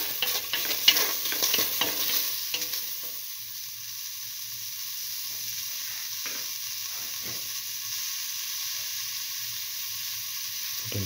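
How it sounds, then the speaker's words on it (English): Split mung beans sauté in a hot pan with a steady sizzle and hiss, while a utensil scrapes and stirs in short strokes early on before the frying settles into a quieter, even crackle. "mix, thoroughly saute and mix"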